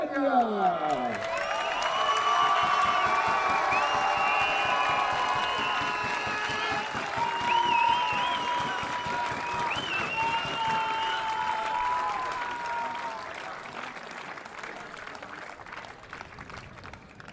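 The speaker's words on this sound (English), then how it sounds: "Les joueurs de l'Espagne, on applaudit Diego González, José Luis Aguilar, Pablo Gar" Sustained audience applause with cheering and whoops at the Under-21 medal ceremony of a canoe-kayak polo world championship in Saint Omer, France, as Spain's gold medal team is honoured; an announcer talks over the steady clapping, which thins out toward the end.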